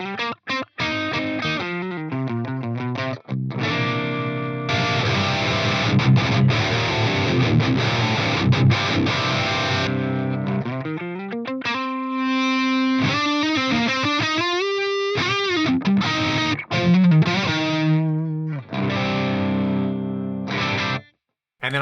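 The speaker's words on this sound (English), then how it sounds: "What you're about to hear is the direct output of my FM3 going straight into my interface." Electric guitar on the neck pickup played through a Fractal FM3 direct into an interface, a continuous stream of notes and chords with a slightly driven, chorused tone, loud and close, ending in a brief pause.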